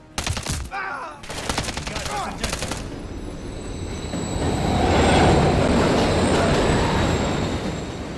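A train roars through a tunnel in Call of Duty Modern Warfare 3, with sharp gunfire bursts in the first seconds before the train's rumble and rising wheel squeal dominate.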